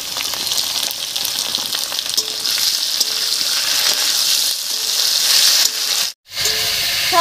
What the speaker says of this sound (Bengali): সব মশলাগুলো দিয়ে বেশ কিছুক্ষণ রান্না করে নিয়েছি